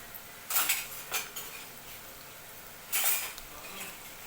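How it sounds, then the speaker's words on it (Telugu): A ladle clinks and scrapes in a pan as wheat-flour snacks are turned in hot oil, with two short bursts of metallic scraping over a faint background hiss. "ఇలా మనం గరిటతో రెండు వైపులా తీసుకుంటూ అయితే"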